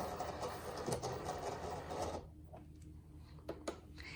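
A Cricut cutting machine whirs and hums steadily as it loads a leather sheet, then falls quieter with a few light clicks and knocks at close range, and nobody speaks.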